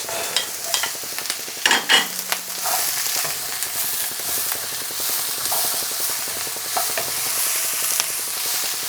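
Spring onions frying in oil with beef in a hot pan, a steady close sizzle with busy stirring and scraping at the start, then continuous crackling fry throughout.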